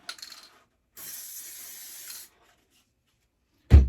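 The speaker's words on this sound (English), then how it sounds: "So I'm just giving this a quick spray." Two short bursts of spray hiss, one quick and one longer, followed after a pause by a sudden low thump.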